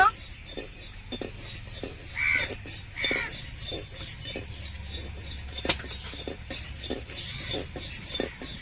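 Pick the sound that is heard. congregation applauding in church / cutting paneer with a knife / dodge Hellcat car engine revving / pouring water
cutting paneer with a knife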